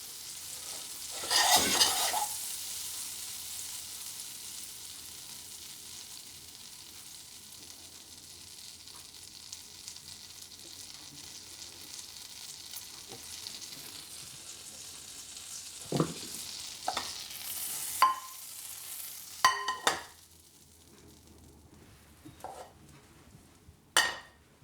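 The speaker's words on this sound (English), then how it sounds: "You can hear that sizzling in the pan now." Butter heating and then sizzling in a frying pan before Brussels sprouts go in, a soft steady crackle throughout with occasional louder clinks and stirring scrapes near the end, no voices.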